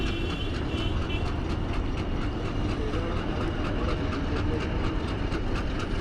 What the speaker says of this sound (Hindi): मूव हो रही है 1 to 8 down Sher Shah junction से मुल्तान की तरफ